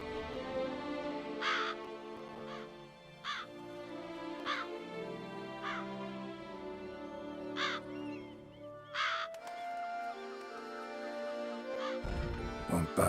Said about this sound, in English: There are crows as well.